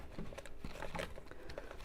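Soft rustling and crinkling with light taps and clicks, like hands rummaging through a bag of small items, close and quiet.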